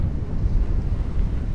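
Steady wind buffets a sailboat under full sail at five to six knots on the English Channel, a low, continuous roar of gusts across the microphone with the wash of the sea beneath it, no voices.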